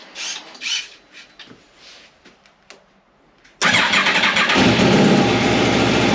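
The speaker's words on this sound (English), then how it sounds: "Start the bike up, make sure there's no problems." A motorcycle engine is started after charger installation work, with quiet handling noises first and then a sudden loud start at about 3.6 seconds. It settles into a steady, close idle rumble that continues to the end.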